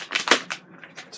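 Crinkly seasoning packets for chili torn open by hand, a quick run of sharp paper rips and rustles close up, with no talking.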